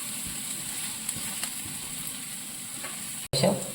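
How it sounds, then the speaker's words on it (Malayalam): Onions fry in a pan with a continuous soft sizzle and faint crackles, close by, broken by a sharp clatter near the end. "ഉള്ളി ഇതൊക്കെ ഇച്ചിരി ഒന്ന് മൂത്തോട്ടെ"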